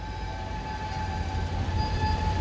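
A Norfolk Southern southbound coal train rolls past with a steady low rumble and a faint high tonal whine, holding even and continuous throughout with no voices.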